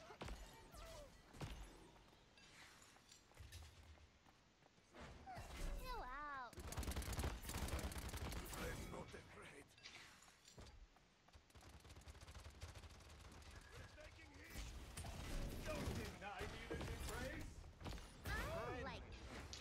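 Gunfire erupts in bursts in the video game Paladins, sharp shots and volleys scattered through the round, alongside other game effects and players chatting in Turkish.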